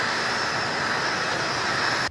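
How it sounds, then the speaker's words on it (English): A helicopter carrying the Vice President comes in to land near a town engulfed in flames, its loud, steady engine roar filling the air before cutting off abruptly at the very end. "As the helicopter carrying the Vice President landed"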